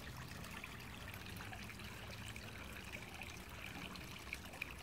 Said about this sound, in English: And I turned on the waterfall